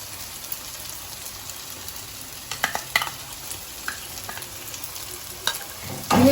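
Poppy seed, mustard and nut paste frying in oil for a stuffed eggplant curry, a continuous close sizzle with scattered clacks and scrapes of a spoon stirring, growing busier toward the end.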